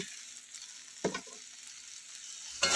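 Soybean chunks and potatoes being stir-fried with spices, a quiet low sizzle broken by a couple of brief scraping strokes of the spoon around the middle and another at the very end, close and fairly soft.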